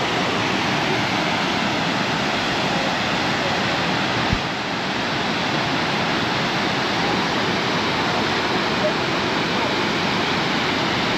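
A waterfall in a Turkish village, a loud, steady broadband roar of rushing water that stays constant throughout.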